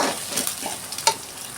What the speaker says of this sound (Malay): Kita akan kacau-kacau bagi isi ayam tu meresap dengan bahan yang kita tumis tadi ya.